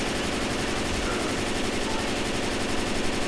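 Gunfire in Left 4 Dead 2 rattles in a rapid, continuous automatic burst, loud and close, with no pauses across the whole stretch.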